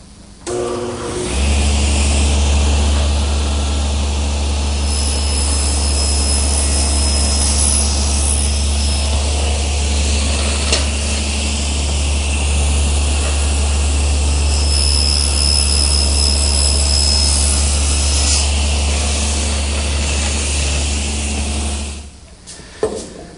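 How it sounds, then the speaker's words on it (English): A table saw set up with a guide block makes a shoulder cut in a butcher-block piece, spinning up into a loud, steady whirring roar that holds for about twenty seconds before winding down. "I want to make this shoulder cut at my table saw"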